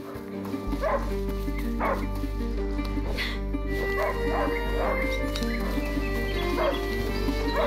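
A hunting dog in A Plague Tale: Innocence barks and yips in short repeated bursts about once a second, mixed with whimpers over a steady low hum, with game voices around it.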